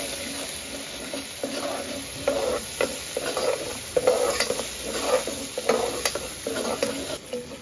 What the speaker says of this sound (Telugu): అల్లం వెల్లిపాయ మంచిగా ఫ్రై కావాలి.